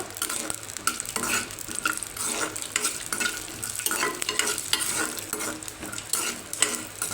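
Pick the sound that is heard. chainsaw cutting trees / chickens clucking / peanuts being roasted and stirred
peanuts being roasted and stirred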